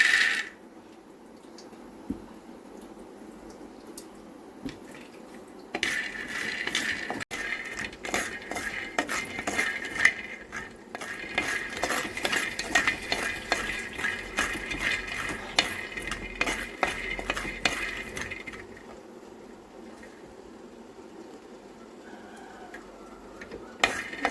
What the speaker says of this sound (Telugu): పల్లీలు అయితే పటపటలాడుతున్నాయి